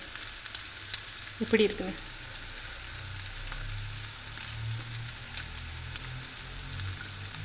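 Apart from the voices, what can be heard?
mutton fried rice being stirred in a large pan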